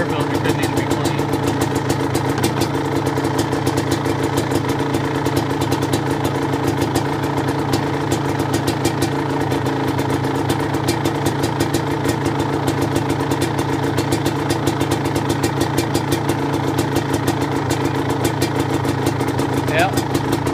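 A Suzuki LT250R ATV engine idles after a cold start, running a little lean with a dirty air filter. Its steady, close putter continues throughout while someone talks over it.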